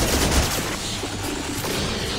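Rapid gunfire in the video game Mass Effect 2 on Insanity difficulty: a dense, continuous burst of shots and booms lasting a couple of seconds.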